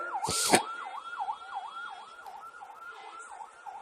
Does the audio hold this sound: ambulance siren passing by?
yes